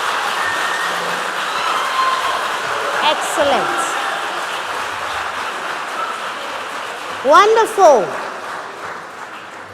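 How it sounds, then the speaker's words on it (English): An audience at a junior high school quiz competition quarter-final claps in a steady wash while a voice speaks over it, and sliding whistle-like tones sweep through twice. "I want us to give the schools a resounding round of applause."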